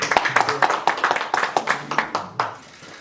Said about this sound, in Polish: zaintonować i złożyć na Pana ręce i drużyny szczere od serca oklaski